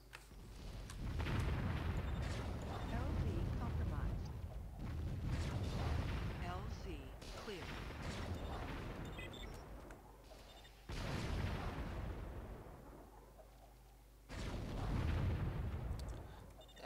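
Artillery battery firing in the strategy game Warzone 2100, heavy booming bursts rumbling in long low swells with sharp restarts, loud and continuous, with someone talking over parts of it.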